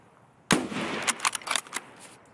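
A single sharp rifle shot aimed at a distant sniper scav in Escape from Tarkov, loud and close, followed by a rattling tail of echoes and mechanical clicks.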